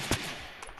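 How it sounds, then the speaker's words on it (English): Gunfire in a Fortnite battle royale match, a sharp close shot followed by a short burst and a fainter later report over background noise. "Hey, stop shooting your gun over here."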